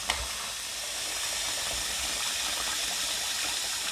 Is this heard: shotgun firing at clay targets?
no